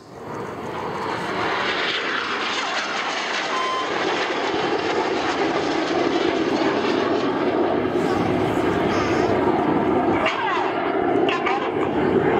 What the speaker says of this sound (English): These 4 aircraft are now descending to 100 feet. They're closing at 850 miles an hour.